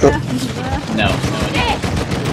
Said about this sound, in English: He's shooting at me the whole time when he missed.